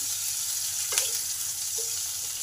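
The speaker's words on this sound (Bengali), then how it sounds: "তেল গরম হলে তেলে দিলাম গোটা জিরে আর কাঁচা লঙ্কা। এগুলোকে একটু ভালো করে ভেজে নেব।" Whole cumin seeds and green chillies fry in a spoonful of hot oil, giving a soft, even sizzle with a couple of faint crackles. No one speaks.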